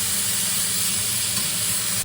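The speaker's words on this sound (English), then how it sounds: "you're gonna sear that bad boy at that hot temperature for 2 to 3 minutes on both sides" A steak sears in a very hot pan, a steady dense sizzle and hiss filling the whole stretch at close range with no break or voice.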